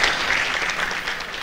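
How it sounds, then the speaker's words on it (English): An auditorium audience at PyCon India 2014 in Bangalore claps for the speakers, a loud, close, dense burst of applause that stays steady through its short span. "Can we have a round of applause for them?"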